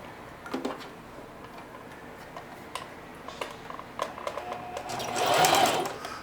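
Sewing machine stitching a zippered bag, starting with scattered ticks and clicks of the mechanism being adjusted, then a short burst of fast, humming needle strokes near the end, close and clear, no speech.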